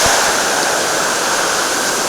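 Madeline Creek rushes past at close range along a mountain trail near a broken footbridge, a loud, steady, unbroken roar of whitewater with no voices.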